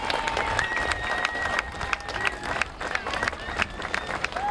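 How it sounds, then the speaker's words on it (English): A crowd at a fire prevention demonstration in Camden applauds, with scattered clapping and cheering mixed with outdoor crowd chatter and some whistle-like tones, continuous and moderately loud throughout. "let's give them a round of applause"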